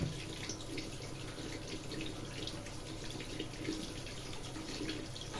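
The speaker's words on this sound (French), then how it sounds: "Je vais le rincer." Aluminium part rinsed under a running tap after chrome-stripping steps, a steady low rush of flowing water with faint splashes, fairly quiet and continuous, no talking.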